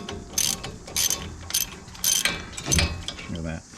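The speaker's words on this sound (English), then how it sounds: "Just take our ratchet." A ratchet clicks in several short bursts as it turns a rotor puller on the front brakes of a 2021 Ford Ranger 4x4, with a faint voice in the background.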